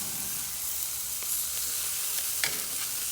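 Bacon and cow tails sizzling on a Lodge Sportsman's Pro charcoal grill, a steady close crackling hiss with a few sharper pops, with no voices.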